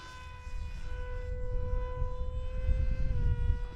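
A Supernova RC model airplane flies overhead on its maiden flight, its electric motor at under half throttle. The motor holds a steady, thin buzzing whine over wind rumble, drifting slightly lower in pitch near the end.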